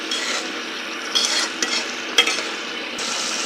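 Prawns and chopped onion frying in a pan make a bright, continuous sizzle, broken by several scraping stirs of a utensil against the metal, close and loud, with no voices.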